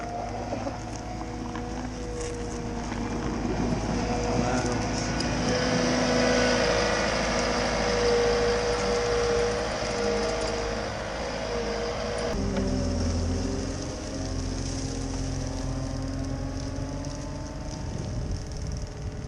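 A forestry mulcher's engine drones steadily nearby as the machine drives down a trailer ramp. A low rumble continues with a shift in tone partway through and faint clanking of the tracks.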